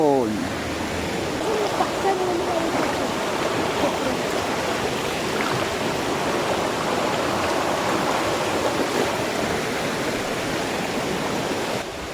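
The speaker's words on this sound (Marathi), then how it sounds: "दोन नद्या इथे एकत्र झालेल्या आहेत आणि एकनं पाणी जातंय" Steady rushing water flows continuously, a broad even roar where two rivers meet in the Konkan region, with a voice briefly audible at the start.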